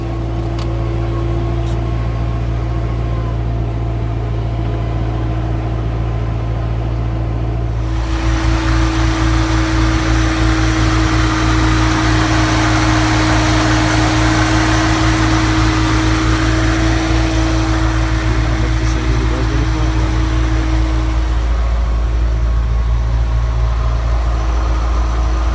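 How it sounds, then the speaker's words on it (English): A C7 Corvette engine fitted with an Edelbrock E-Force supercharger idles steadily, a loud, continuous hum with stable tones that turns brighter and fuller after the first several seconds, with no talking. "and have a look at the engine running"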